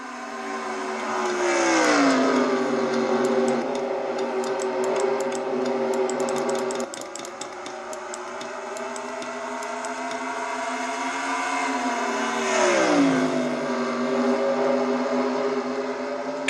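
Stock cars in the NASCAR-style GM Goodwrench Service 400 racing game drone steadily at close range, engine pitch swelling and falling as cars pass through a turn and down the straight, a continuous loud hum.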